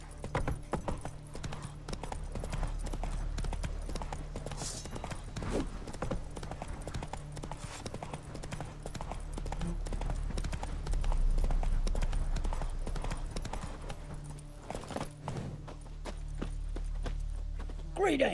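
Roach, Geralt's horse in The Witcher video game, walks with steady, rhythmic clip-clopping hooves, close and clear over a low ambient hum, while someone speaks in the scene.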